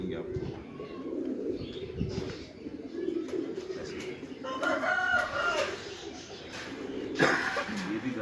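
Black Chinese pigeons coo and call from a rooftop loft in Islamabad, soft repeated coos and scattered bird calls under people talking nearby.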